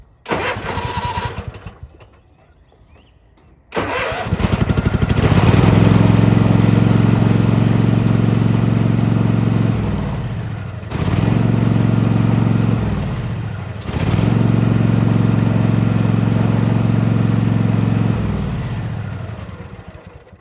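A riding lawn mower with a brake-switch fault cranks after a quiet pause, starts, and runs loudly and close. It dips and stumbles twice before settling, then dies off near the end, with no talking.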